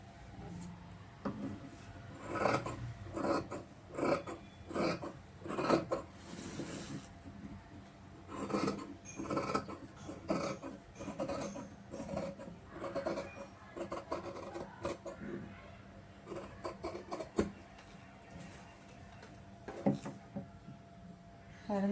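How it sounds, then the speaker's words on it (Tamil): Scissors cut blouse fabric pieces in a tailoring shop with repeated close, rasping snips in an uneven rhythm, separated by brief quiet gaps. "வளைவு வரைஞ்சதுக்கப்புறமா இப்போ நம்ம கட் பண்ணி எடுக்கலாம்"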